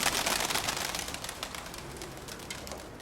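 Racing pigeons returning to a loft coo and rustle nearby, soft repeated calls layered over a busy fluttering background.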